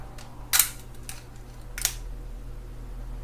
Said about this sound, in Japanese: この1回巻き上げで戻すときにラチェットの音がしない